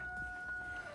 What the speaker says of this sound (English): a rooster that crows all day and all night